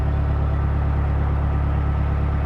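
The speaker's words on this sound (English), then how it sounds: "Just the sound of my engine." A boat engine idles steadily at low speed, about 3 miles an hour, with no wind. It is a constant, loud, low mechanical drone that runs the whole time with no talk over it.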